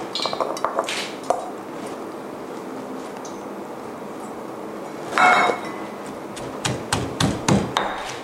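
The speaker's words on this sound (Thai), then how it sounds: "เริ่มแรกเราจะต้อง นำเนื้อกุ้งนะคะมาโขลกให้ละเอียดในครกซะก่อนค่ะ" Shrimp meat being pounded finely in a mortar: sharp, close knocks and clinks, scattered at first, then a run of rhythmic heavy thuds near the end, with a brief scraping rustle in between.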